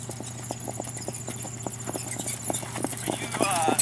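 Hooves of colts being jogged on a farm, a steady run of clip-clop beats over a constant low hum, with talk faintly in the background.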